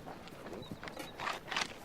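Horse hooves clip-clop on a hard surface, several uneven steps close by at a slow walking pace, fairly quiet; one horse has lost a shoe.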